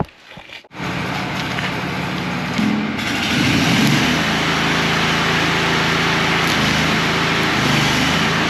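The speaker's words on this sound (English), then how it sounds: "I got my plate cut out and put on there. I'm going to tack that on now" Steady crackling buzz of tack welding a steel plate onto a truss jib boom in hot outdoor conditions, starting after a brief quiet pause and continuing loud and close with a low humming drone underneath.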